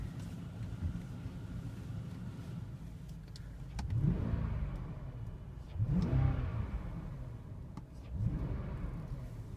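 A 2004 BMW 545i saloon with a V8 petrol engine, heard in a steady idle that rises in three distinct revving swells, each climbing and falling back, with a faint voice murmuring now and then.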